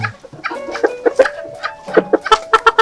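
Chickens in a very clean coop cluck loudly and close in a quick, pulsing series of short calls, several birds overlapping with rising bursts toward the end.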